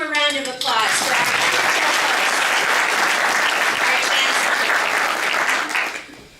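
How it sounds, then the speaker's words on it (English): Warm audience applause for a chancellor at a State Library event with the Illinois Secretary of State. A speaker's voice trails off at the start, then loud, sustained clapping from a large crowd carries on evenly before fading out. "One more round of applause for our"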